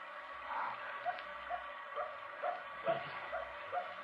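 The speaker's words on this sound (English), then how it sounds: "Maybe it's barking to be let in." A dog barks repeatedly in the distance on a country road, faint and muffled, in a regular series of short yaps over a low background hum, in a radio drama.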